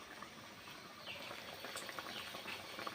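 Water boiling in a pan with crab gives soft, continuous bubbling and faint gurgles, quiet and close, with no talking.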